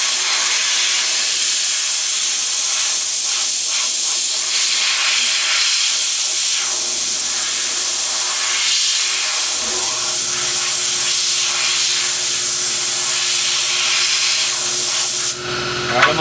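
Compressed air blown hard over a freshly cleaned metal part being prepped for Ospho and primer, a loud steady hiss lasting about fifteen seconds before cutting off abruptly.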